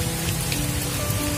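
Heavy rain pours steadily outdoors on a cliffside, a dense, loud, unbroken hiss of drops hitting surfaces close by, with no voices.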